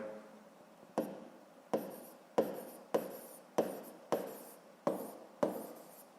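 Pen strokes on paper during a Ukrainian 7th-grade physics lesson, about nine short scratching bursts at a steady rhythm, each starting sharply and trailing off, close and fairly quiet with no talk over them.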